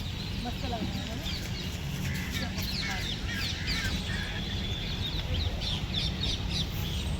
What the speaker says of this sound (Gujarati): તમે જોઈ શકો છો સવાર સવારમાં બધા પક્ષીઓ છે ને, જુઓ.